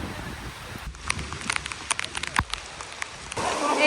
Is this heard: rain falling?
yes